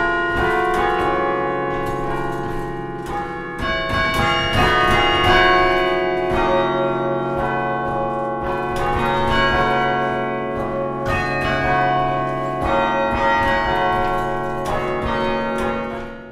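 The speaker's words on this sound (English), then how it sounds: "played on bells here by the Cornell Chimes" The Cornell Chimes ring out a song on tower bells, a continuous melodic sequence of loud, resonant strikes whose overlapping tones hang and sustain, with no voices.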